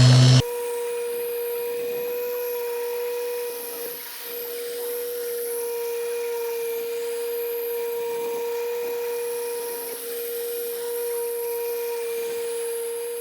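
A machine polisher runs steadily on rattle-can spray paint during a cut and buff after wet sanding, a close, continuous whirring drone with slight dips in pitch as pressure changes.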